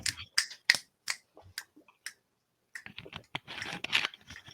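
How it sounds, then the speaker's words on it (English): Sharp, crisp finger snaps ring out one after another, a handful of distinct clicks in an uneven rhythm, followed by a denser cluster of snaps and small rustling clicks, close and quiet in an otherwise silent room. "Finger snaps"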